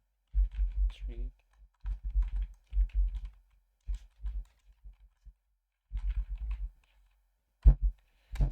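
Keys tapped on a small computer keyboard in short bursts of clicks with pauses between, close and fairly quiet, while entering structured text code.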